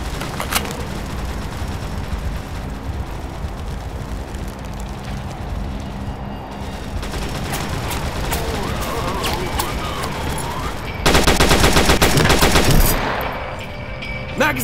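Sustained automatic gunfire from the World War Heroes video game, loud and continuous, with dense rapid bursts that grow heavier and more intense near the end, no voices over it.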